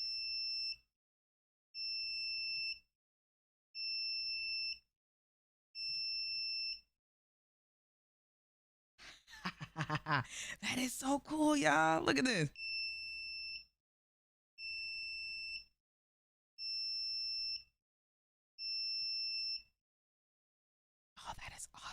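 An Arduino alarm buzzer gives repeated short, shrill beeps in an even rhythm, stopping while someone talks excitedly close by, then resuming its regular pulsing pattern.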